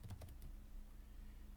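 A short burst of rapid computer keyboard typing while entering a spreadsheet formula, a few quick keystrokes up front followed by a low steady hum.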